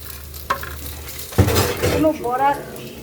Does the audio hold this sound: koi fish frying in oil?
yes